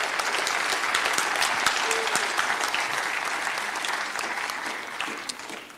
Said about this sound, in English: let's give one more big round of applause to all the scholarship recipients